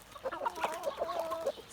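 Lohmann laying hens cluck in a series of short, tonal calls, fairly close and steady, with a rooster's crow possible nearby on a farm where the birds feed on fresh cabbage leaves.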